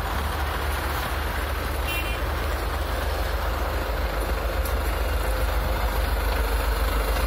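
A truck engine idles steadily on a city street in Sterlitamak, Bashkortostan, giving a continuous low rumble with constant background traffic noise and no talk.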